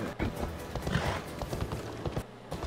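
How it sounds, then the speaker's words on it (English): Rapid, steady hoofbeats of a horse galloping in Assassin's Creed Odyssey, loud and close, with busy game action and effects around it. "if we call our horse, and keep running, the horse should be able to catch up to us and pick us up"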